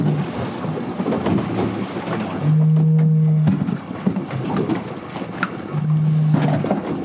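A low, steady buoy horn hoots twice at sea off Martha's Vineyard, each blast lasting about a second, over wind rumble and rolling water noise.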